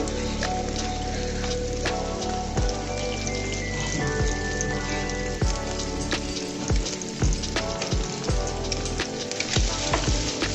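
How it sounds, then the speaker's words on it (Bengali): Onions frying in a pan for an egg and eggplant curry, a dense, continuous close sizzle full of crackling pops and occasional light metal clinks. "পেঁয়াজগুলো দেখুন ভাজা হয়ে গিয়েছে।"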